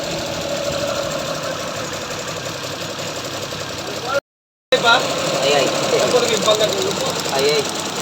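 A Suzuki Multicab engine idles with a slow-to-settle idle, a steady mechanical clatter with rhythmic knocking, close by, broken by a brief dropout; voices talk over it.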